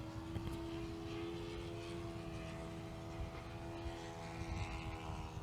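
An airplane drones steadily overhead at Sepulveda Basin in Los Angeles, a continuous engine hum with a clear tonal whine holding at moderate distance outdoors.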